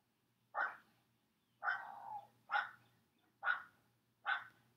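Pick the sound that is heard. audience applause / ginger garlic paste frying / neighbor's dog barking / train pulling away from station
neighbor's dog barking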